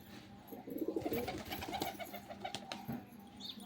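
Pigeons coo in soft, low, rolling notes, layered and continuous against a steady background hum at moderate distance.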